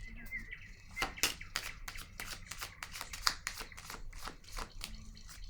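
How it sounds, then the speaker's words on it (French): A playing card is laid down on a table, one of a series of soft, close flicks and taps of card handling under quiet room ambience. "Je vais déposer une carte ici."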